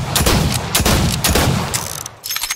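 Marksman rifle fire in Fortnite, a loud, close run of rapid, evenly repeating gunshots that thins out and briefly pauses before a few more shots resume.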